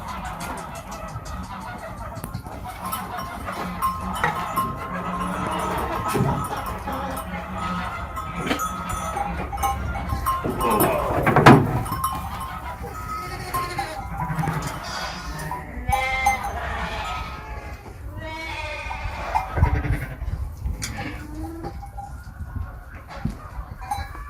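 Sheep and lambs bleat repeatedly in a pen on a farm, overlapping calls near and far over steady barn background noise, with some quiet talk.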